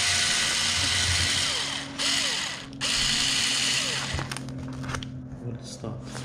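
A power drill bores holes for mounting an AC Cobra emblem, loud and close, in whining bursts that dip and stop briefly before revving again, with speech mixed in toward the end.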